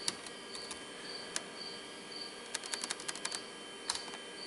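Sparse, irregular keystrokes click on a computer keyboard, some in quick bursts, while a steady high electronic whine and fan hum from a Cray J98 computer setup fill the background.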